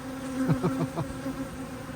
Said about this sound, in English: look at the bees going mental at that camera